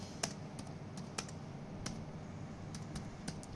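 Keystrokes on a computer keyboard, a dozen sharp, irregular clicks spaced across a quiet room, close and fairly soft, with no voices.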